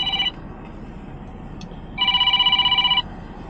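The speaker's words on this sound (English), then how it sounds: "my phone's ringing again, as usual" A mobile phone rings in an HVAC technician's setting, a short burst of electronic ringtone at the start followed after a pause by a louder, sustained ring lasting about a second, over steady low background hum.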